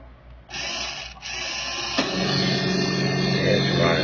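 AW 2005 Ford Mustang GT slot car on a dyno, its tiny motor starting with a sharp high whine that holds steady and builds slightly, close up.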